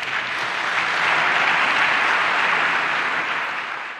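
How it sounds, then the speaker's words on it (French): Steady, full applause from a large crowd at a youth employment forum in Pointe-Noire, loud and even throughout, swelling slightly in the middle before easing off. "Et je voudrais pour cela vous faire bénéficier d'une salve d'applaudissements."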